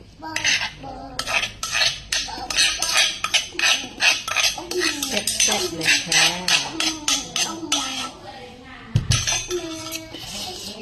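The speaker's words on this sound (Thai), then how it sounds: "ใส่เครื่องครบแล้วก็ขูดโขกเข้ากันเลยจ้า" Mama instant noodle salad with fermented fish sauce is pounded and scraped in a mortar, giving a fast, steady series of close knocks and clinks, with someone talking over the rhythm.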